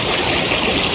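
A river in Tayabas, Quezon, flows past in a brief, steady rush of water with no voices.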